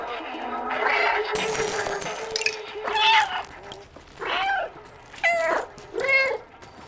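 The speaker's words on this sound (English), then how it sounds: "Why am I meowing? What's my purpose of meowing?" A cat meowing in the video game Stray, several distinct meows one after another at a steady pace, close and clear, with a voice talking early in the clip.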